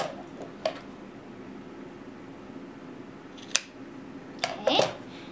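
Scissors snip through chunky arm-knitting yarn while finishing a cowl, giving a few short, separate crisp cuts against a quiet room, with a brief cluster of snips near the end.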